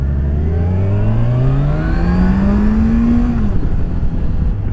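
Kawasaki Ninja 1000 SX motorcycle engine accelerating, loud and close, its pitch climbing smoothly through the revs before a shift drops it near the end.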